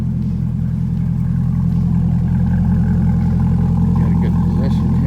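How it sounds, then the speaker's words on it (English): A Chevrolet Corvette C8 Stingray V8 with a center exhaust runs steadily close by, a deep, loud low rumble with a slight swell near the end rather than sharp revs, while people talk faintly over it. "Maybe we can get you to do a few revs,"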